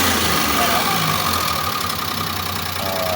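A Suzuki Multicab with an F5A engine idles steadily after a carburetor adjustment, a close, continuous mechanical hum with a faint knock, while a voice talks over it.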